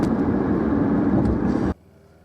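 Airplane passing overhead near a river bank, a steady low broadband roar that holds loudly for almost two seconds, then cuts off abruptly, leaving faint background hum.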